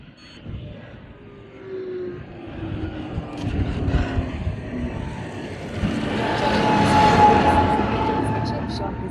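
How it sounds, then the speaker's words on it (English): A big tractor passes along a road in the far north of Scotland near Wick and Thurso, its engine rumble swelling gradually to a peak near the end while a person talks over it. "Big tractor."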